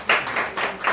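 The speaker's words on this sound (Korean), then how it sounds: "박수 주세요." An audience of parents claps during an education information session on the high school credit system. A brief burst of a few sharp, close claps.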